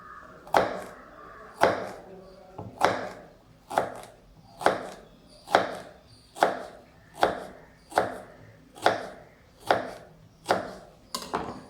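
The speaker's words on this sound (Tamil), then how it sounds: "அப்புறம் இதை ஜஸ்ட்டு ஃபைன் பீசஸாக கட் பண்ணுங்கள் இந்த ஷேப்பில்." Knife chopping raw banana into fine pieces on a cutting board, a dozen sharp, evenly spaced thuds about one per second, close and distinct with quiet gaps between strokes and no talk.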